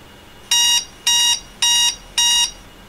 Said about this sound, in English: Okay, so that was my alarm.